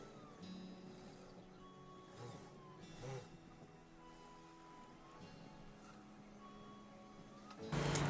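Sewing machine running a seam along trousers, a steady mechanical whir with shifting tones and short pauses between runs, close but fairly quiet, ending in a louder burst.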